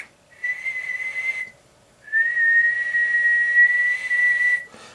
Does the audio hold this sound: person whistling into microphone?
yes